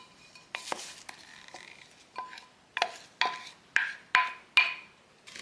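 A spatula folds egg whites into a wet Christmas cake batter in a bowl, with a series of soft scraping strokes and light clinks against the bowl, growing louder and more rhythmic toward the end.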